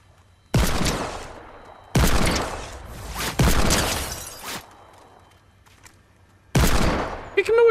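Several sharp Fortnite gunshots crack out loud and close, spaced apart in bursts with ringing tails between them, a voice briefly audible near the end.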